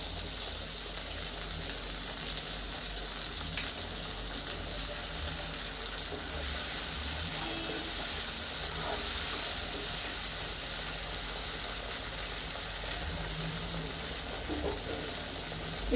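Ginger and cumin paste sautéing in oil in a covered pan on low heat, a steady, even sizzle holding for the whole stretch without any talk.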